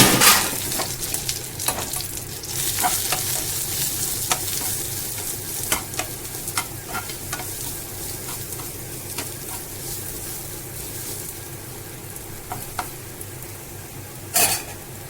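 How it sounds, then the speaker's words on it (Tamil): Ground paste frying in oil with mustard seeds and curry leaves for a Tamil New Year dish, a steady loud sizzle with scattered spoon scrapes and clinks against the pan throughout, no speech. "ஒரு பேனில் எண்ணெய் விட்டு கடுகு விட்டு கொஞ்சம் கருவேப்பிலை இந்த அரைச்சி வச்ச விழுது இட்லிக்கு அரைச்சி வச்சு விழுது இதை போட்டு நல்லா வளர்க்கணும்"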